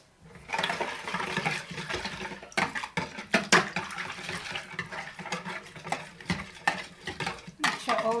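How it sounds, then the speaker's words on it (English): A utensil stirs pancake batter with flour, cardamom and other ingredients in a bowl, giving steady scraping and clinking strokes up close with a few sharper knocks, and no talking. "Make sure all the ingredients mix well."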